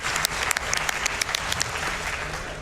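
An audience claps at a live speedrun charity event, a steady dense burst of applause from a crowd in a large hall.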